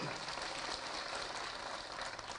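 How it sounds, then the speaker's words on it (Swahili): Sustained applause from an audience at a political party meeting at Bomas, a dense, steady clatter of clapping that fills the room with no break. "Kwa hivyo tumpigie makofi tena."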